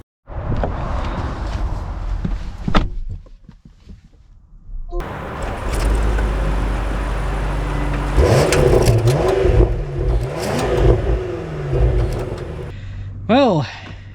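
A 2025 Range Rover SV long wheelbase pulls away and accelerates, its engine rising to a steady mid-range roar and rumble that holds near and loud for several seconds, with quieter road and cabin noise before it.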